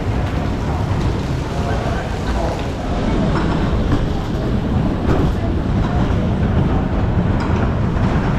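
A wooden roller coaster train, the Big Dipper at Blackpool Pleasure Beach, rumbles past with a continuous low roar and faint clacking of the track. The sound is steady and fairly close, with park ambience and voices mixed in.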